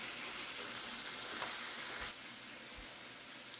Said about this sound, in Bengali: ভালো করে এর সাথে ভুনে নেব। এখানেও 1 মিনিট মতো ভুনব।